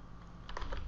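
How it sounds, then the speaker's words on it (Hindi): Quick keystrokes on a computer keyboard as a keyword is typed, a brief burst of soft, close clicks rising over a quiet background. "उसके बाद आप यहाँ पर कीवर्ड लिखेंगे"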